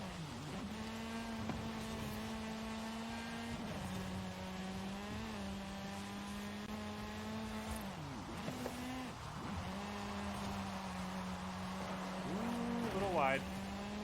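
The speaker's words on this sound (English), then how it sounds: "This thing sounds so good. I love how rally cars sound." Rally car engine in the Forza Horizon 5 racing game, a steady droning note that climbs and drops with shifts and corners, with someone talking over it throughout.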